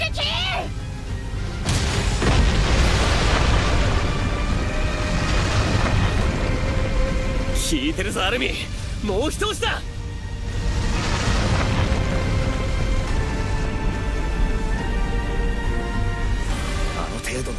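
Booming explosions in the Attack on Titan 2 video game battle, with a sharp burst near the start and further blasts around the middle, layered under Japanese character dialogue and dramatic music.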